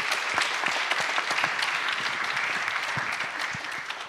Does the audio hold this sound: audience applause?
yes